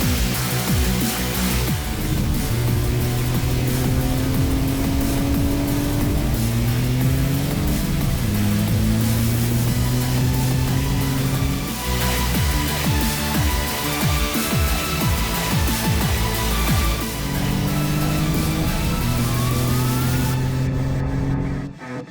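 Toyota GR Yaris with a cat-back exhaust on a racing circuit, the engine revving hard through repeated gear changes, rising pitch sweeps broken by brief shift dips, loud and close throughout with no talk.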